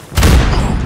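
A grenade blast in the shooter game Call of Duty Modern Warfare, one heavy low boom with a rumbling tail that fades over under a second.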